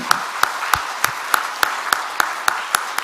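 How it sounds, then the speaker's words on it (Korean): A congregation in a church claps in unison, sharp evenly spaced claps about three per second, loud and close with no other sound. "이 두 분을 위해서 모르지만 박수 한번 합시다."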